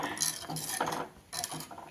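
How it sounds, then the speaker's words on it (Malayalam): A spoon scrapes and clinks around a pot of toddy-shop-style fish curry being stirred, giving several short, close, rough metallic strokes in an irregular rhythm with no voices. "എന്നാ ഇളക്ക്"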